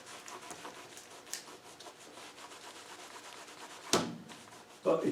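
A cotton rag rubs over car seat fabric with a soft, steady brushing scrape, close and quiet, ending in two brief louder scuffs.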